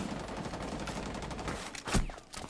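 Video game gunfire crackles in a rapid volley through the clip, with one sharper, louder shot standing out near the end over steady background game noise.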